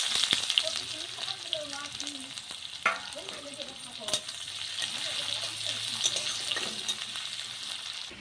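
Bay leaf and cumin tempering sizzles in hot oil, a steady loud close crackle and hiss throughout with scattered pops, while a voice talks briefly under it.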